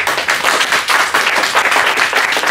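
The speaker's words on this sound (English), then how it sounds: "we like to clap, don't we? Let's congratulate ourselves real quickly." A church congregation claps together in a sustained round of applause during a sermon, dense and loud, filling the whole moment with rapid overlapping hand claps and no speech.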